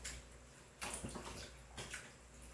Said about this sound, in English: Now I am gonna turn the water on and just rinse her off